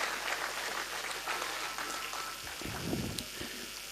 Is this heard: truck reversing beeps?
no